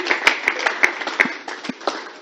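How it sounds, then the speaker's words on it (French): An audience at an international women's rights conference claps, with scattered sharp hand claps building into light applause, close and fairly loud. "On l'applaudit s'il vous plaît."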